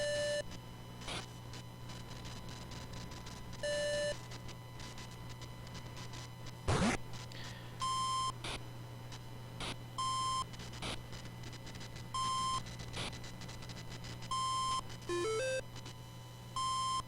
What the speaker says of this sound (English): It almost sounds like an alarm clock going off. Beep, beep, beep.